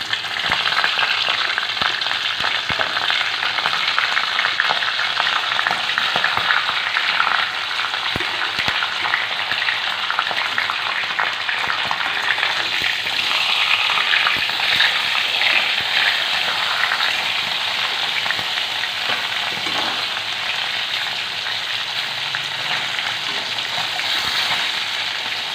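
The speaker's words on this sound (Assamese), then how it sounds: "মাছৰ মূৰখিনি মই তাত ভালদৰে ভাজি লওঁ।" Fish heads fry in mustard oil in a hot wok, a loud, continuous crackling sizzle with occasional stirring scrapes running unbroken throughout, close up and with no voices.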